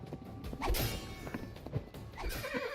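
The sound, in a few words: horse neighing in VR video game Tales of Glory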